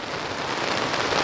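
Rain falls outside a tent at a campsite, a dense, even hiss of drops pattering on surfaces, steady and fairly loud with no voices.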